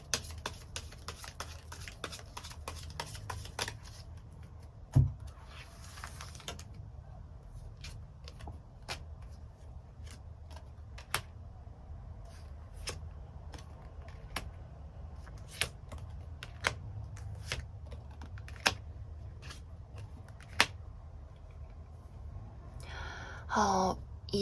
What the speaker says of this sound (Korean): 그럼 이 사람을 언제 만나게 될지 추가 카드로 뽑아보도록 하겠습니다